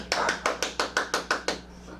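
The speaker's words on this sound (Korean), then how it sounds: "저만 박수 쳐요." Lone person clapping hands nine times in an even, moderately quick rhythm, each clap sharp and close, then silence, in a quiet room.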